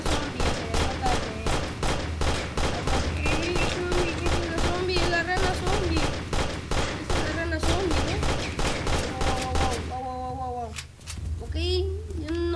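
Rapid gunfire in The Amazing Frog video game during a zombie apocalypse round, a fast run of repeated sharp shots, loud and continuous. A voice speaks over the firing and near its end.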